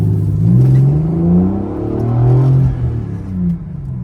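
A VE V6 Holden Commodore with a newly replaced heavy-duty clutch pulls away on a suburban street, its engine rising and falling in pitch through loud, close revs and gear changes.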